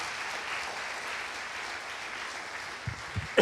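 A church congregation claps in a soft, steady wash of applause at moderate distance, with a few louder thumps just before the end.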